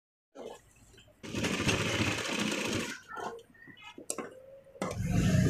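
A sewing machine runs in loud bursts as it stitches a folded seam on a full-sleeve garment, with short pauses and fabric handling between runs.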